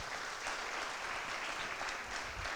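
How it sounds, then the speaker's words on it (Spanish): A church congregation claps together in a steady, dense round of applause that holds at an even level from start to finish, filling the room without any voice above it. "¿Por qué no le das un fuerte aplauso al Señor?"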